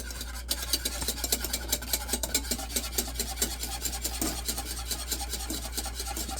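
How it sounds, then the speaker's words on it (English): A whisk beats oil into liquid in a bowl to emulsify a gummy mixture, giving fast, steady rhythmic scraping and rasping strokes close up, with no talk. "you gotta whisk it like crazy because you want that emulsification to happen"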